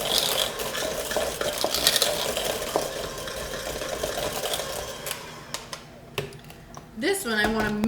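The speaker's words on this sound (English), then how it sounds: "And I'm just going to mix that until it's all incorporated together." A spoon steadily stirs cupcake batter with sugar in a bowl, a continuous close scraping and swishing that thins out near the end, where a voice briefly speaks.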